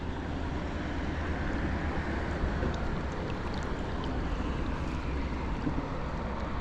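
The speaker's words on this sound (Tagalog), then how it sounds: "May agos po eh" Water current rushing through a tidal channel at high tide, a dense, steady outdoor wash with constant roar and no pauses, loud and close, mixed with wind-like noise.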